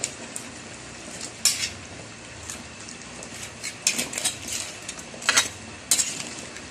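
Jackfruit cooked in coconut milk with crab being stirred in a pot, with a spoon clinking and scraping against the metal in irregular bursts over a low bubbling simmer.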